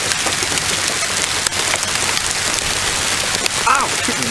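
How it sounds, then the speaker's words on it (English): Hail falls steadily in Alpine, Alaska, a dense, loud clatter of stones striking surfaces close by, continuous throughout with a brief squeak near the end. "This is hail in Alpine."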